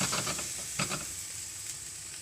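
Eggs are poured into a pan of simmering shakshuka sauce, giving a close bubbling sizzle with a few soft wet splashes early on that then settle into a quieter steady hiss, with no talk.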